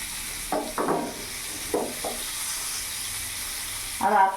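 Pieces of silver carp fry in oil in a pan, a soft steady sizzle broken by a few scraping knocks as the fish is turned, ending in a louder burst of spatter.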